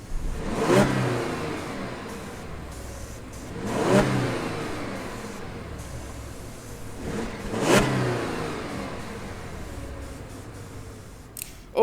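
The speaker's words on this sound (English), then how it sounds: "let's listen to this engine" A 2017 Audi A6 3.0T engine revs three times in clear rising bursts, each swelling loud then falling back to a steady idle, close by with no talking.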